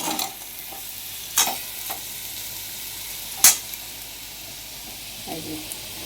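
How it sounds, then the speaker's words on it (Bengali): Potatoes frying in a pan, a steady close sizzle broken by a few sharp scraping stirs of a spatula, with no voices. "আলুটা কিন্তু প্রায় আমার ভাজাও হয়ে গেছে"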